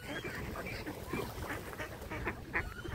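Ducks on the pond at Parc des Buttes Chaumont give a scatter of short quacks and honks over a murmuring park background, fairly close and moderately quiet.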